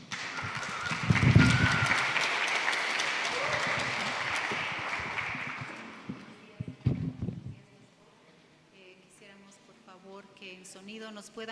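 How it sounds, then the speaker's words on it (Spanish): Church congregation at a Sunday service applauding the choir, a loud burst of clapping that swells and gradually fades over several seconds, mixed with voices, then a few scattered thuds before quieter talk and faint music. "entonces vamos a aplaudir"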